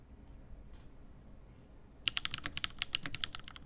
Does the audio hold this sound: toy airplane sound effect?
no